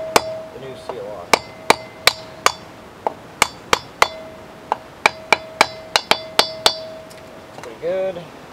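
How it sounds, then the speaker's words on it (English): Repeated sharp metallic taps of a hammer striking a 2x4 to seat a new wheel bearing seal on a travel trailer hub, about fifteen hits in an uneven rhythm, loud and close with ringing clinks, then a brief voice at the end. "Tap, tap, tap the new seal on."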